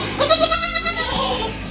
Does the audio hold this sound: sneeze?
no